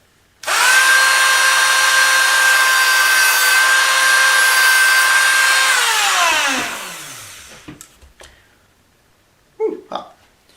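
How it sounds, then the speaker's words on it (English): A powered cutting tool whines loudly for about six seconds while notching a mandolin fret, then winds down, followed by a few faint clicks and a brief handling knock. "Now cut those notches hot."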